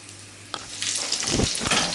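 Battered pineapple sizzles and crackles in hot oil, the frying growing louder after a brief clunk.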